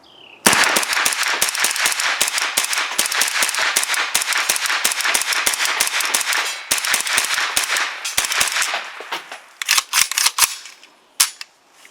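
A Kalashnikov-USA KR9 pistol fires SIG 124-grain rounds in a long run of rapid, loud, sharp shots, closely spaced for about nine seconds before slowing to a few scattered final reports.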